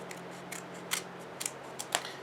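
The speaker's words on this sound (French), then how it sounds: "c'est parti pour l'ouverture des boosters de la Ligue 1" Panini Ligue 1 Adrenalyn XL 2020/21 card booster packs being opened: a handful of short crisp foil crinkles and tears, sporadic and close, over a quiet steady hum, with no talking.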